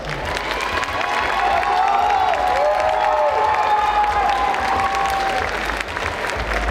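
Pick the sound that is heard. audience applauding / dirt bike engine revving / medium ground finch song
audience applauding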